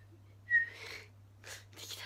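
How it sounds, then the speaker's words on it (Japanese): A brief, faint whistle tone rises out of near silence, followed by soft breathy sounds. "口笛吹けますよ。"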